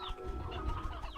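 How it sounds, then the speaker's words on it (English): A flock of briar hens in Slime Rancher clucks continuously, a busy cluster of overlapping chicken clucks at moderate volume, with no talking. "I moved all 30 briar hens plus 2 roostros over here."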